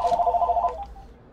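A telephone rings with a quick run of bright electronic trill pulses for under a second, then trails off into a fading tone; no one speaks.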